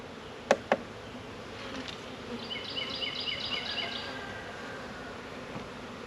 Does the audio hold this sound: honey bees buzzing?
yes